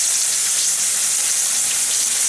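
Tuna frying in a pan, a loud, dense and unbroken hiss of hot oil close by, steady throughout with no voices.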